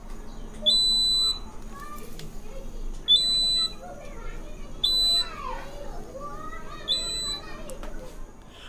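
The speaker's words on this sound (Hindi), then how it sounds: "आप कोई से भी एंटर करने की कोशिश करो ये अलार्म बजने लगेगा।" A homemade laser home security alarm, built as a school science project, sounds in repeated short high-pitched electronic beeps, four bursts about two seconds apart, while people talk in the background.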